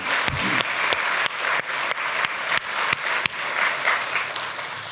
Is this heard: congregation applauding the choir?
yes